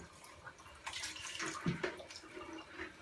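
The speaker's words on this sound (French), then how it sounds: "on prend un entonnoir, un filtre à café, une bouteille en verre et on la remplit" Kefir poured through a funnel lined with a coffee filter into a glass bottle over a kitchen sink, giving a soft, steady liquid trickle and splash that swells midway, close by, with no talk.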